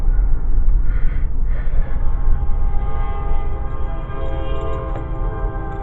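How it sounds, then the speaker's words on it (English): A train passes close by, a loud rumbling roll of cars along the rails with a sustained horn blast sounding over it, heard on its own without talk. "there's a train coming, so imagine that"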